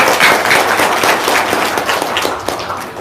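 Audience applause at a local-wisdom testimonial gathering: a dense, steady wash of many hands clapping that holds for about three seconds without a break.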